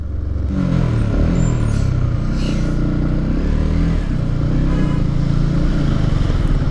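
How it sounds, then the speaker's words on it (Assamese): A Yamaha MT-15 motorcycle engine runs loud and close as it starts misfiring on its last fuel, its uneven drone stumbling and surging throughout. "এতিয়া বাইকখন লাহে লাহে অলপ অলপ মিছ মাৰিবলৈ লৈছে"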